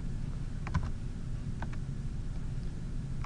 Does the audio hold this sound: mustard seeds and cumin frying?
no